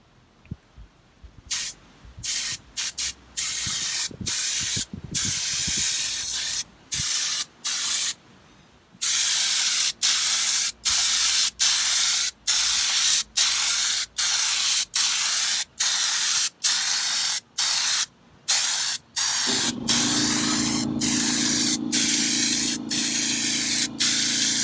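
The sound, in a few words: spraying second coat of Raptor liner on diesel fuel tank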